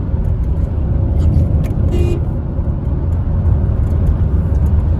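A Honda Crossroad on a road in Pakistan, its engine droning steadily as it speeds up, a constant low roar with road noise and faint clicks.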